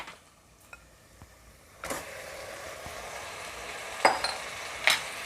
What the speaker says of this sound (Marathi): मटण चांगलं परतून घ्यायचं आहे.